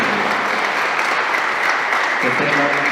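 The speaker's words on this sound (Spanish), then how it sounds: "Un aplauso muy fuerte." Loud, steady applause from a crowd at a 50th birthday party after the candle is blown out, dense clapping filling the whole stretch without pause.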